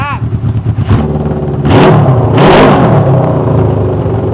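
A Kawasaki KZ650 motorcycle engine fitted to an ATV, heard close and loud as it idles roughly and then is blipped into two strong revs that swell and fall back.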